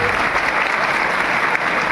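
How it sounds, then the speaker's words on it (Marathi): Loud, sustained applause fills a hall packed with students, mothers and families at a community gathering in Surat, a thick, steady roar of clapping with no pauses. "एक जोरदार टाळी ह्या हॉलमध्ये व्हायलाच पाहिजे"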